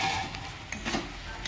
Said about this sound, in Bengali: দিয়ে দিচ্ছি ভেজে রাখা ডিম আর ফুলকপিটা